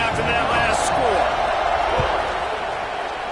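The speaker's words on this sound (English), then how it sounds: "this crowd is buzzing after that last score" Buzzing crowd at an Ohio State vs Nebraska football game, a dense, steady roar filling the stadium without pause, with a commentator talking over it and a couple of faint thuds.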